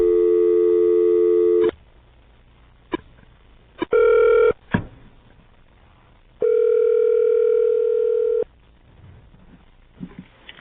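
A steady telephone dial tone sounds during a call placed from a radio studio broadcast, in two loud sustained stretches broken by a short burst and a few clicks, with quiet gaps between and no talking.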